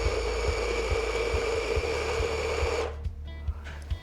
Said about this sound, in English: I'm just going to press play, and it's going to go ahead and grind for 16 seconds